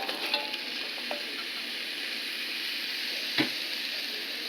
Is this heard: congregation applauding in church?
no